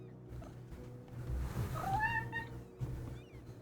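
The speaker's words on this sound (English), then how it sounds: "He's very chatty. He likes to meow." Pet cat meowing nearby, a single rising, drawn-out meow over a quiet room with low background hum, no talking.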